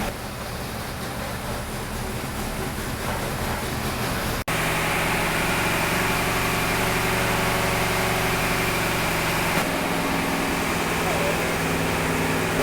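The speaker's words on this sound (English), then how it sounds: "We've got an engine on the engine dyno today that's just fired up" A loud 2JZ engine on an engine dyno runs at a steady idle, then jumps to a heavier, constant roar partway through, droning continuously with strong low-frequency hum.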